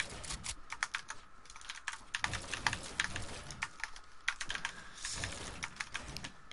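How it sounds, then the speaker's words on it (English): Rapid, continuous typing on a mechanical keyboard, with dense, close clicky keystrokes throughout and no voices. "I have a mechanical keyboard"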